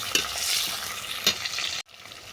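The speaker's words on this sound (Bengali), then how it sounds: "মশলাটা ভালো করে কষে নেওয়ার পর সবজিগুলোকে ফেলে দিই" Vegetables for lau data sukto frying in spice paste, a close sizzle punctuated by a couple of sharp stirring scrapes, then cutting off abruptly before resuming faintly.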